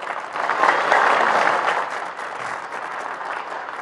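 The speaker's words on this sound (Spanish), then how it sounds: "Gracias, muy amable, el aplauso fuerte." A loud crowd of workers applauds at a Bolivian presidential event. The clapping is dense and sustained, swells early and then eases slightly while staying continuous.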